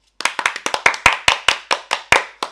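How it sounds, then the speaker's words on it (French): A small group claps in sharp, separate strokes, about a dozen crisp claps at a lively, slightly uneven pace, close and loud with no voices. "bravo, on applaudit."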